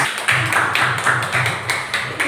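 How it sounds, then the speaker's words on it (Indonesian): A room of people clapping for someone named Bang Agit at a talk about growing online business sales, sharp irregular claps repeating in close bursts. "Tepuk tangan buat Bang Agit."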